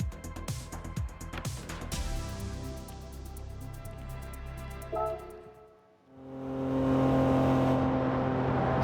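Race car engine in the Gran Turismo 7 racing game at the Alsace Village circuit, running on medium sport tyres, with a loud steady drone that rises and falls through gear changes, dips briefly, then surges back up to a strong roar.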